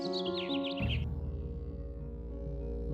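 Birds chirp in a dense forest in a short burst of high, rapid tweets that soon gives way to a steady low hum and background tones, with no talking.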